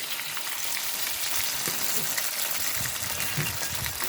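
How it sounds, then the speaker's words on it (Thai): Eggplant stir-fried with oyster sauce in a hot pan gives a steady, close sizzle throughout, with faint scrapes and clinks of stirring underneath. "ผัดมะเขือยาว ใส่ซอสหอยนะคะ"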